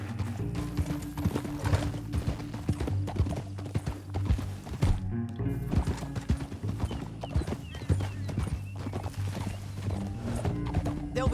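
Horse hooves galloping through a canyon in Red Dead Redemption 2, a steady rapid clip-clop with occasional whinnies over a continuous low rumble of game music and ambience, moderately loud throughout.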